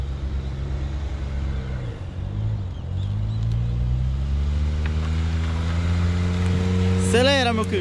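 A Suzuki Jimny pushes through a flooded off-road trail with its engine held at steady revs, a loud, close low drone that rises in pitch over several seconds, with a brief splash and squeal near the end.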